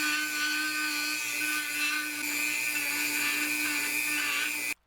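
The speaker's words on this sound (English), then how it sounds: "we're going to take the Dremel tool here and we're going to ream the hole out some" A Dremel rotary tool whines steadily and loudly as it reams out a hole in PVC pipe, then cuts off abruptly at the end.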